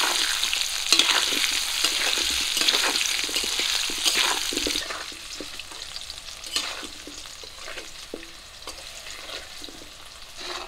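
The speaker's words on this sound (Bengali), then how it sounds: "হলুদ গুঁড়ো, লবণ হলুদ দিয়ে আলুগুলো একটু লাল করে ভেজে নেব।" Potatoes fry in hot oil with turmeric and salt in a Bengali village kitchen, a steady loud sizzle with frequent scraping stir strokes that continues throughout at close range.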